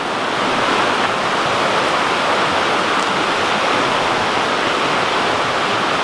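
A small trout creek rushes steadily through green woodland, a continuous loud wash of flowing water heard up close with no pauses and no voices.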